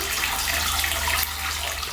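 Tap water running steadily into a leaky bathroom sink, a loud, close, continuous hiss and splash that drops slightly in level partway through, with no voices.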